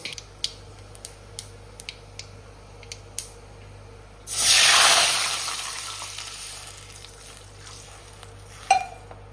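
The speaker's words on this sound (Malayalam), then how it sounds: "നമുക്ക് വെള്ളം ഒഴിക്കും" Water pours into a pan for Yippee instant noodles, a sudden rushing splash and hiss that starts partway through, swells loudly, then tapers off, with a few small clinks and kitchen knocks before and after.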